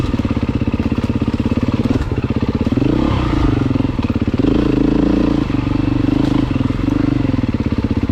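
A 2023 Beta 350 Race Edition motorcycle engine drones loud and close, running steadily with slight rises and dips in revs throughout, with no voices over it.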